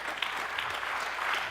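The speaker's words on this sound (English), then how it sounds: "give her a round of applause" An audience at a live mind-reading show applauds, a dense, steady wash of clapping from many hands, loud and continuous throughout.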